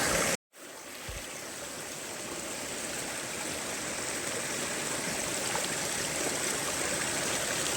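Water rushing over rocks in an ephemeral creek in the Australian bush, a steady, full, broadband burble close to the mic, starting after a brief knock and dropout and holding on alone.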